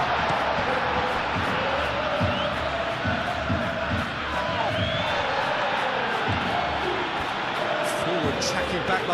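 Stadium crowd noise in the football game eFootball PES 21 during a Barcelona versus Real Madrid El Clasico match, a steady roar of cheering that swells slightly, with commentary talking over it.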